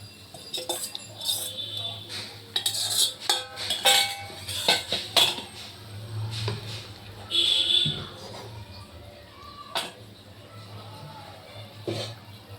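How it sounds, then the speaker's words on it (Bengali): Fish pieces dropped into boiling curry broth in a metal pot, with clinks and clatters of utensils against the pot in irregular bursts, close and moderately loud. "এবার আমি মাছগুলো দিয়ে দেবো"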